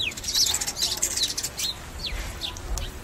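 Pet parrot chirping with a run of sharp, high whistles and rising and falling tweets in quick succession, close by and fairly loud over faint room noise.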